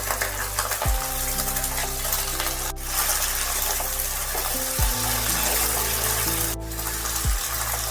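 Green beans dropped into hot mustard oil in a wok hiss into a steady, close sizzle that runs throughout, with a few dull clinks of utensil against the pan.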